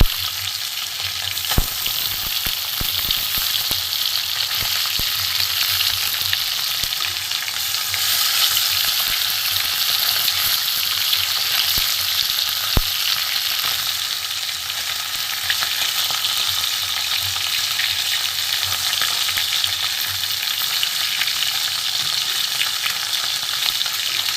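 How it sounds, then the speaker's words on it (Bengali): Parshe fish fry in a wok with a steady, close, bright sizzle throughout, broken by a few sharp clicks of a spatula. "মাছ ভাজা আমার হয়ে গেছে, পার্শে মাছ ভাজা আমি তুলে নেবো"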